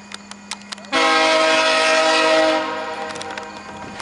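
VIA Rail train 84 passes close by on the tracks and sounds its horn in a loud, sustained blast that fades as it goes. Wheel clatter and a few brief knocks are heard around it.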